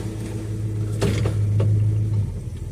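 A 1969 Dodge Dart engine, run on old 10% ethanol gas after sitting six months and fitted with a tired transmission, idles steadily with a low droning hum, then a clunk as it is put into gear.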